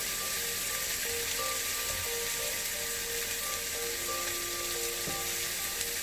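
Ackee and saltfish sizzle steadily in a pan, seasoned with garlic, salt and pepper, a constant close frying hiss with a few faint clinks and stirring sounds.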